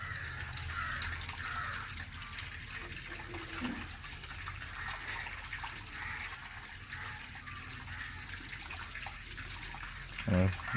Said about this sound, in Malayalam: ഇപ്പം വെള്ളം വരുന്നത് ഫിൽറ്റർ നന്ന താഴെയാണ്.